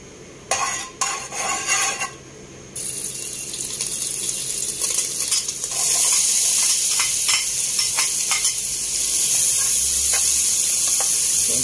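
Onions frying in hot oil for spicy pork dinuguan, a loud continuous sizzle that swells after a few seconds, with early clinks of a utensil against the pan.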